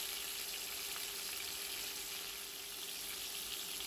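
Garlic cloves fry in hot oil in a pan with a steady, soft, continuous sizzle throughout, close and alone, with no voices.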